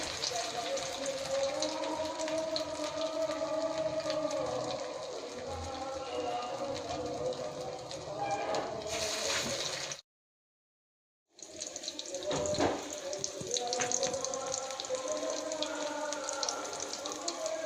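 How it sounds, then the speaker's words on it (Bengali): Prawn fritters sizzle in hot white oil with a steady, bright crackling hiss, briefly cut to silence partway through before resuming, with faint talking underneath. "আমি এই যে চিংড়ি মাছের বড়াগুলো দিয়ে দিচ্ছি সাদা তেলে।"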